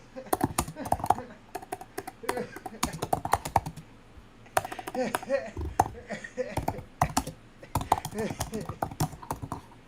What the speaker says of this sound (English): Now, I'm typing in something,